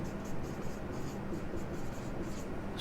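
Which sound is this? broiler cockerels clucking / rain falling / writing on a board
writing on a board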